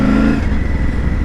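Triumph Tiger 900 GT Pro motorcycle engine revving loud and close, its pitch dropping abruptly as the quickshifter snaps into the next gear, then a steady drone.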